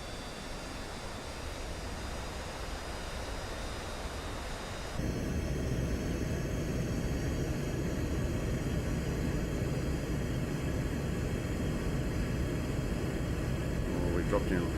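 SEPECAT Jaguar jet landing with full flaps in a flight simulator, with a steady broadband engine and airflow roar that jumps louder midway and holds, with no voices.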